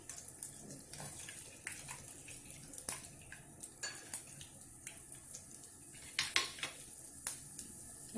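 Chana dal frying in oil in a pan gives off a quiet scatter of sharp clicks and metallic taps, with faint sizzling and stirring in the background.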